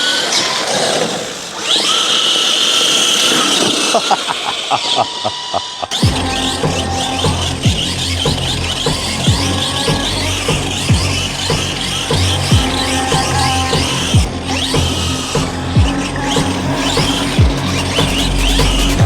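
A large, powerful RC car runs flat out outdoors, its high-pitched motor screaming and surging with tire squeals and gravelly skids, loud and close throughout with no talking.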